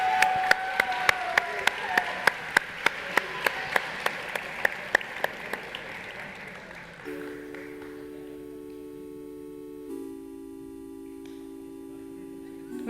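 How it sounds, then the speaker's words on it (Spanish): A burst of crowd applause with steady clapping that fades out, followed by electronic tones. "un aplausito más"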